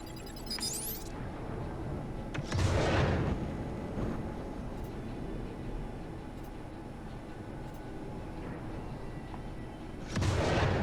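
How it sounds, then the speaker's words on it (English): Missiles launching from a spaceship in the Star Citizen video game, two heavy booming whooshes several seconds apart over a constant low rumbling engine drone. "Our missiles seem to be not hitting their target at all."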